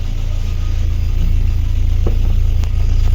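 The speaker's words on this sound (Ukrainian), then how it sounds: "Послухаємо по вихлопу." A Lada 1118 with a 1.6 engine idles at its exhaust, giving a loud, steady low rumble with an even, regular pulse throughout and no talking.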